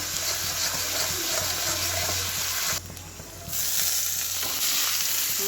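Chopped banana flower sautéing in hot oil with spiced tempering, a steady close sizzle and crackle with faint stirring, briefly quieting midway before the frying resumes.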